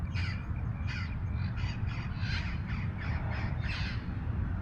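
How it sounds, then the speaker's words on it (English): Parrots calling from a tree on an Orange County morning street, a run of repeated harsh squawks about twice per second over a steady loud low rumble of traffic or wind. "There's obviously parrots up in this tree."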